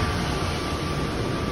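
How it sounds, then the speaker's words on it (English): An airport plane train running out of service fills the space with a loud, steady rumble and hum of rail motion, with no breaks for the whole moment. "I'm on the train that's going out of service."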